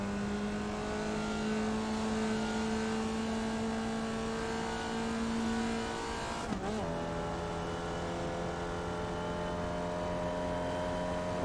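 A Formula Vee race car engine in the iRacing sim at Lime Rock Park drones at a steady high pitch, briefly dips with a gear shift, then holds a constant buzzing note.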